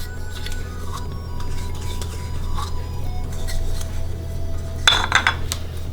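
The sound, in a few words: mixing yogurt and dough in a bowl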